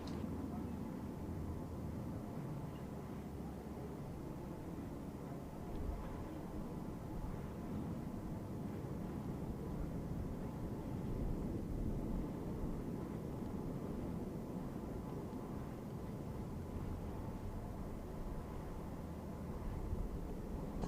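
A low, continuous broad roar of an aircraft making a high-speed pass at the 2022 Stihl National Championship Air Races, steady and distant-sounding throughout, with a voice talking over it.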